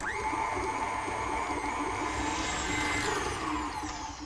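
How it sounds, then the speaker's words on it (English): An electric mixer creaming butter and light brown sugar for banana bread puddings, a steady loud motor whir with a rising whine near the start, running continuously without talk. "So get that mixer on, and you want to cream these until they're nice and smooth."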